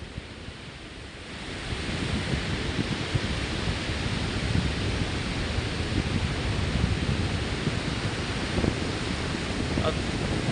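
Sea waves roll onto the beach at Velneshwar in a continuous broad wash of surf that grows fuller after the first couple of seconds, with wind rumbling across the microphone.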